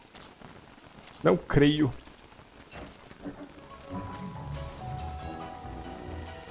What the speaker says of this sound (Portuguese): tá chovendo sapo de novo